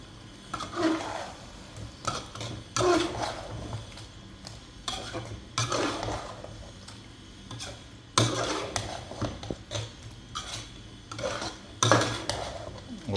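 Dried fenugreek (kasuri methi) being stirred into a turnip and meat curry in a pot, with a spoon scraping and clanking against the metal in repeated strokes alongside a faint sizzle, and no talking.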